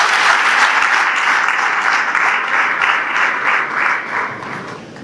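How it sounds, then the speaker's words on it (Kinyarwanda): An audience at a school and university thanksgiving gathering claps steadily, a thick, even patter that swells in places and eases a little toward the end. "Mubongere amashyi cyane."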